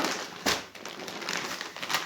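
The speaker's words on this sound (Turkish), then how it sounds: "Mutfak için küçük çöp poşeti, bir paket yine Migros'ta." A plastic package of small kitchen trash bags from the supermarket crinkles and crackles close by, quiet and irregular, with a few sharper rustles.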